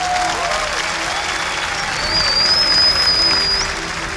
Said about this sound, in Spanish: de verdad merece un fuerte aplauso, de verdad